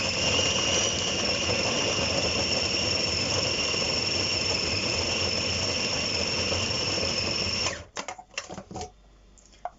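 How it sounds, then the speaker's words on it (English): Blender whirs loudly and steadily while chopping bacon, a constant high motor whine that runs for several seconds before stopping, followed by a few faint clatters and knocks. "Or my blender, is the proper name."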